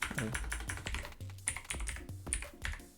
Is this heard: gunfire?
no